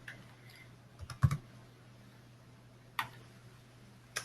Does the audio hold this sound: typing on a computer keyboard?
yes